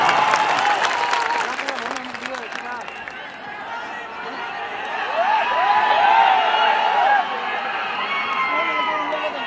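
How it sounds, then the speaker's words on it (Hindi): A large crowd at a Lok Sabha election rally in Karakat, Bihar bursts into sustained applause and cheering, loud and close, with voices and chatter mixed in throughout. "एक बार ताली बजा के प्यार से"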